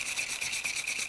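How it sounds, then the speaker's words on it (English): The steel spindle of a Millers Falls 120 breast drill gets rubbed and polished, giving a rapid, rhythmic scrubbing rasp that repeats about five times a second, close and steady. "now I'm just cleaning the spindle the same way I did the"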